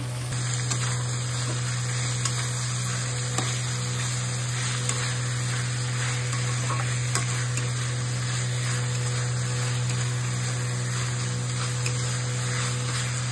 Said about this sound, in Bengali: এই দেখো পেঁয়াজটা ভাজবো এখন